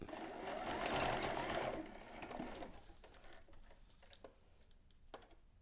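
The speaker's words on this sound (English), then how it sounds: "I'm going to run a straight stitch right across the top so that it stays in place" A sewing machine runs a straight stitch across the fabric of a ribbon harness bralette. A loud, dense mechanical whir dominates the first two seconds, then softens into a quieter run with scattered ticks.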